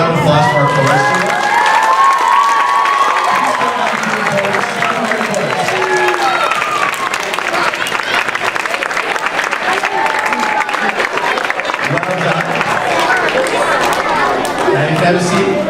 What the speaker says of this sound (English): How about a round of applause for our chorus students?